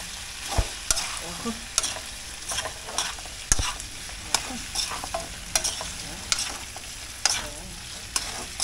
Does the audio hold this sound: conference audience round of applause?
no